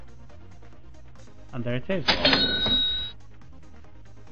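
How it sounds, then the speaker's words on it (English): A cash register sound effect plays as a bright mechanical clatter ending in a sustained ringing chime, lasting about a second, with a person talking before and after it. "This is the sound of a cash register."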